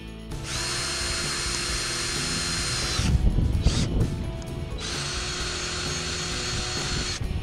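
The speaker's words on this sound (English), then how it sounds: "you'll need to drill a hole in the center of your center cap so you can put the bolt through" A power drill runs at steady high speed, boring a hole through the center of a PVC pipe center cap. The loud whine stops briefly in the middle with some clattering and then starts again, with no talk.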